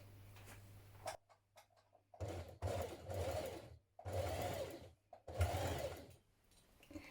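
A home sewing machine runs in several bursts while stitching around a dress casing, each run a steady mechanical whir separated by short pauses with faint ticks, close and moderately loud.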